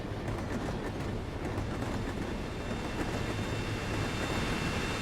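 A moving train in the video game The Bouncer, rolling with a steady, dense rumble and faint clicking, continuous and even throughout with no talk over it.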